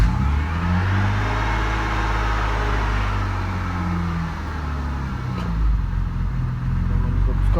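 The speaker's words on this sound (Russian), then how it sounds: "При запуске холодном двигатель работает нормально" BMW E34 with an M50B20 engine idling from a cold start at -2 °C outdoors, a steady close and loud engine drone with a low rhythmic rumble and no talking.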